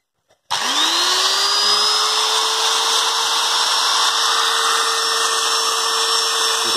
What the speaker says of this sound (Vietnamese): nghe các nghe tiếng máy chạy